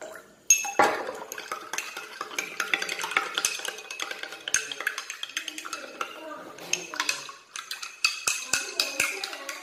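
Water poured into a pot of pepper curry while it is stirred, with clinks of a metal spoon against the pan and liquid splashing, heard close up and steadily across the clip.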